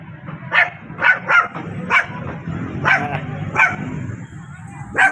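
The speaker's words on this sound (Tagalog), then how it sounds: "Ito dalawang aso." Two dogs bark in repeated sharp bursts, roughly one every half second, fairly close and loud, over a background of street murmur and faint voices during an evening walk.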